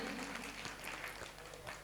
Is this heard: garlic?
no